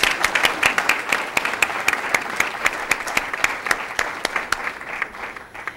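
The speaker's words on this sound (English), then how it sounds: "we can clap." An audience at a speaker series event applauds, a burst of many hands clapping close and loud, tapering off toward the end.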